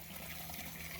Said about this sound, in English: what you hear in the background, this is my temporary koi pond